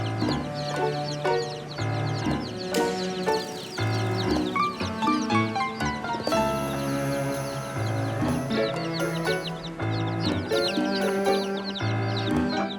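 Chickens and chicks on Kauai cluck and peep repeatedly over a continuous tonal musical bed, with the calls fairly close and steady throughout.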